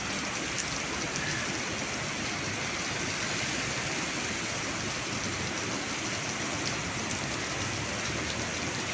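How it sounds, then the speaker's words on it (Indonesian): Steady rain falls during a stretch of wet weather in Padang, a dense, even hiss of drops on surfaces that continues unbroken for the whole stretch with no voices. "Cuaca seperti ini, adem, hujan gitu ya"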